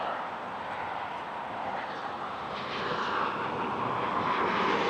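A 16-year-old Bermuda Airlines Embraer jet arrives at Toronto airport, its engine roar a broad, distant rush that swells slightly toward the end, steady and unbroken.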